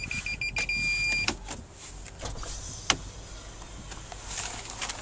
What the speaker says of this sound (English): the rear window does go down on this vehicle